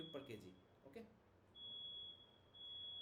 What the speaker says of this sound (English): I'm sorry for this beeping sound. It's an alarm outside my room